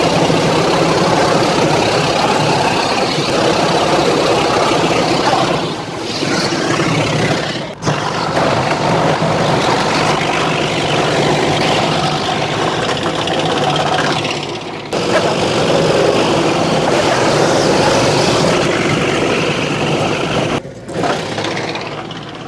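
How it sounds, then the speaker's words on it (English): A wood chipper chewing up tree branches with pine needles runs loud and steady, a heavy engine drone with a few brief dips as wood feeds through. "All right, let's chip it up."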